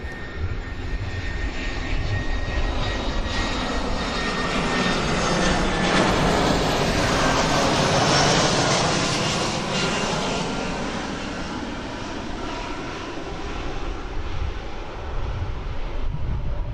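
An Airbus A319 jet on approach to DFW Airport roars steadily overhead, its engine noise swelling toward a peak in the middle and then slowly fading, with some wind buffeting the microphone.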